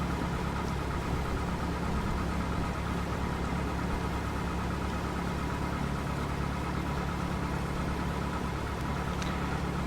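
An A2A Cessna 172 engine runs steadily in a flight simulator, a constant droning propeller-engine hum at even volume with no pauses and no talking over it.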